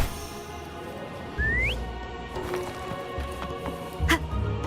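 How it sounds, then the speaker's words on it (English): A character whistles in the Wuthering Waves video game, a single short rising whistle over soft game ambience and light watery drips, with voices elsewhere in the scene. "Try whistling."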